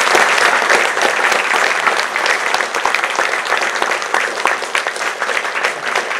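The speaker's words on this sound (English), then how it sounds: "I think we could give Klas a big hand, a big applause." An audience applauds after a pixel art presentation at a Finnish museum exhibition, sustained dense clapping from a room full of people, loud and even throughout with no talking.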